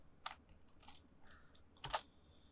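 Quiet, close keystrokes on a computer keyboard while entering code for a Unity C# game project, a few separate soft clicks and short bursts with small gaps between them.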